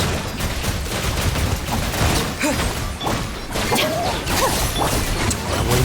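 Explosions and gunfire-like blasts crowd a video game battle, loud and dense, with sharp bursts and whooshes layered over a constant roar.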